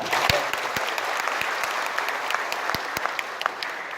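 Audience applause at a regional assembly of a Jakarta community organization, a dense crowd of clapping with sharp individual claps standing out, steady and fairly loud throughout, with no speech.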